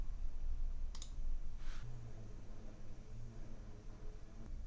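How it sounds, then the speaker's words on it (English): A computer mouse clicks the send button in a Salesforce document-signing window: one sharp click, then a softer one shortly after, both faint over a low steady room hum. "Now we can click send."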